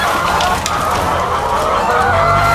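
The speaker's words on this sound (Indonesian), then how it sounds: "ini kita mau kasih makan ayam petelur sama Mas Rizky." Laying hens in a poultry farm cluck in a dense, continuous chorus at feeding time, with a rooster-like crow rising above the steady flock noise, close and loud throughout.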